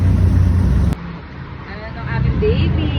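Riding inside a jeepney: steady engine rumble and road noise close around, with voices talking over it throughout.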